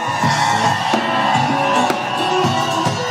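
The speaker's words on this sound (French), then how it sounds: "Pour des cris de joie." Crowd at an Easter jubilee celebration shouting and whooping for joy, a dense, loud wash of many voices with repeated bursts of cheering throughout.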